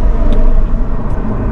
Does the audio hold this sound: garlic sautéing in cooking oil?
no